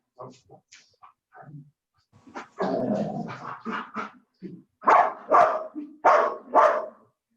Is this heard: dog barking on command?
yes